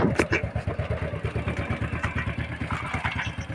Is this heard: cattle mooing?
no